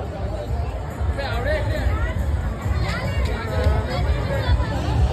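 A dense crowd chatters inside the fish tunnel at the Nanded Utsav fair, with a loud continuous babble of many voices close by throughout.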